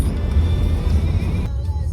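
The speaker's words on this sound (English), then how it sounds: "See, look, there goes another car now" A car passes on the Loneliest Road in America near Austin, Nevada, heard from inside a moving vehicle as a brief loud rushing whoosh over the steady road rumble, cutting off abruptly.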